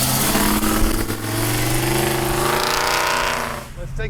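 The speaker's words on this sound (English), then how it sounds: "That big block Chevy, man, sounding awesome." A 1967 Chevrolet Chevelle SS with a big block Chevy engine rumbles loudly and steadily up close with a deep throaty tone, while someone talks over it before the sound tapers off.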